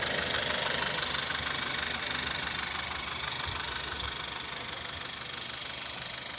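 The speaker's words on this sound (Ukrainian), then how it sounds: "Мотор працює рівно." A Volkswagen Golf 5 engine idles steadily and evenly, a constant low rumble with a faint mechanical ticking, heard up close without any talking.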